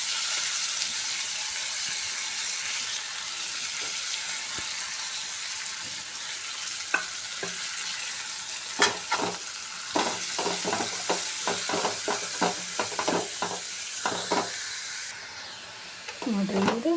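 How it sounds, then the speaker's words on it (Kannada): Raw vegetables fry in oil in a pan, a steady close sizzle and hiss running throughout while a utensil stirs and scrapes in a series of quick clicks and taps growing busier toward the end. "ಹಸಿ ತರಕಾರಿ ಎಲ್ಲ ಎಣ್ಣೆ ಒಳಗೆ ಸ್ವಲ್ಪ ಫ್ರೈ ಆಯ್ತು"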